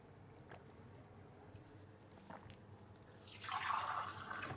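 Water pours into a container for a homemade drink, quiet at first with a few faint drips, then a louder splashing trickle rising over the last second or so.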